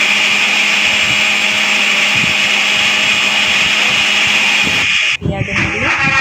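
A mixer grinder whirs loudly and continuously as it grinds chilli, garlic, onion, ginger and cumin into masala for chicken curry, then stops near the end, leaving brief clatter.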